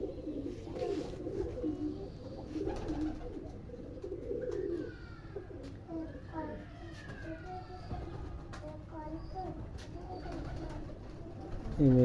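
A pigeon gives soft, repeated low coos close by, under a background of other birds chirping and faint distant noise.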